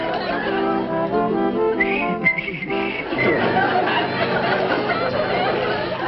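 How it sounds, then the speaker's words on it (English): A person whistles a melodic tune on an old radio variety show, clear sustained notes followed by a murmur of crowd chatter and light laughter from the audience. "would whistle a tune for us"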